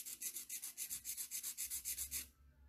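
A nail file rasps across a fingernail, smoothing down a small chipped dip until it sits level with the rest of the nail. About fifteen quick, even back-and-forth strokes sound close and steady, then stop.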